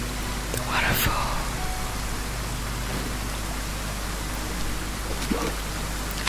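In the video game Arise, a waterfall pours with a constant broadband rush, close and even, over several seconds. Faint whispered speech and a few small clicks sit on top of the water.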